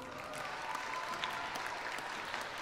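Audience applause for band members at a live concert, a steady sustained clatter of many hands clapping that fills the whole moment, fairly even in level with no voices over it.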